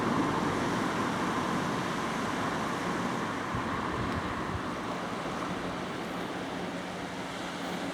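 Sea surf washing onto a rocky chalk coast on a fine day as the tide goes out, with a steady broadband wash of waves and wind buffeting the microphone, loud and continuous with no talk.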